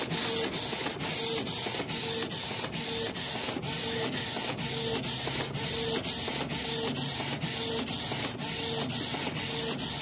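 A Canon IP 2770 inkjet printer prints on art paper with a steady loud mechanical whir and regular clicking ticks of the print head shuttling back and forth, continuous throughout with no talking.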